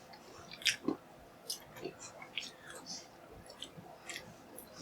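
Several people crunch and chew Branston cheese and pickle flavoured nuts, producing soft, irregular bites and mouth sounds close by, with quiet talk and murmuring in between.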